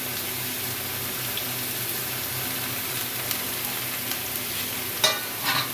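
Mixed vegetables for a Bengali chochori fry in a pan with a constant close, loud sizzle, joined near the end by a couple of stirring scrapes and a sharp clatter.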